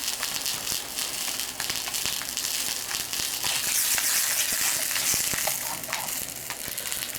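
Australian sausages frying in a pan in a garage, a steady loud sizzle with crackling pops throughout, no talking.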